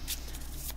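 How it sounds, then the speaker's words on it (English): Shuffling a tarot deck (Magicians, Martyrs, and Madmen) in the hands: soft, continuous riffling card noise with a couple of brighter bursts, close and fairly quiet, with no talking. "I love the way it feels to shuffle."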